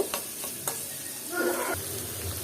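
A tuna vuna curry sizzles in a pan of oil and onions as spices go in. A few light scrapes and taps lead into a short burst of busy stirring over a steady fry.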